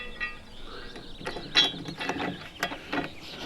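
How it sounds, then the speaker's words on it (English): Screws being backed out of a Jeep Gladiator door hinge, heard as a close, quiet series of ratcheting clicks and metallic turning sounds in short bursts, with no talking. "you'll definitely want to take your time getting them screws out"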